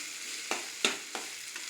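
Potato fry cooking in hot oil, with three or four quick spatula scrapes through the pieces over a soft sizzle, close and fairly quiet.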